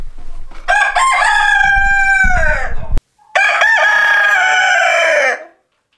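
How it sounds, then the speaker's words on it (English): A black-feathered farm rooster crows twice up close, each call loud and drawn out with a falling end, separated by a brief pause. "This guy's something else. Let's see if he'll keep crowing."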